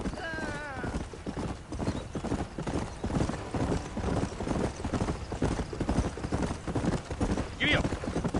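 Horse hooves clip-clop steadily in the Western game Red Dead Redemption, with a whinny at the start and another near the end. The rhythmic trotting continues throughout while people talk over it.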